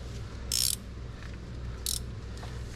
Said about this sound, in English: I'm hoping I can get my ratcheting wrench in here to save me a little time